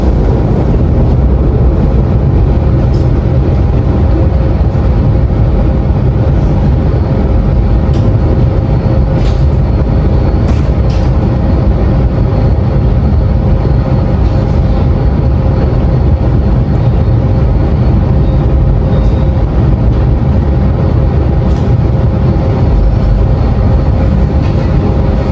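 Purwojaya passenger train running straight through Matraman station without stopping, a loud steady rumble of wheels and cars rolling past close by, with wind noise over the microphone and no pause for its full length.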